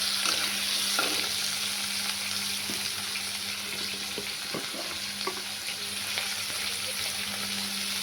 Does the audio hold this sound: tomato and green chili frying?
yes